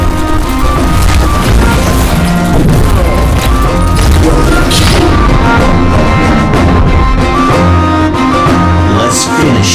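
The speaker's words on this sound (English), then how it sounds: "This is my favorite gun." Gun blasts in the Thetan Arena video game, dense and loud booming shots and crashes layered over constant game music and effects, with no pause in the barrage.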